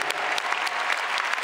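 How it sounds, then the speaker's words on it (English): Arena concert crowd applauding at a concert: dense, loud, continuous clapping and cheering from a large audience, filling the whole short moment without a break. "Give yourselves a round of applause."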